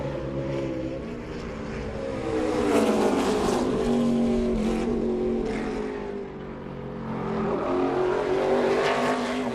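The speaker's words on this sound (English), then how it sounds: "Sam Mayer on track now with his quick lap" A race car at the 2022 Drive for the Cure 250 qualifying runs a lap, its engine droning and rising in pitch with acceleration, fading and swelling again as it passes, loud and steady with no talk.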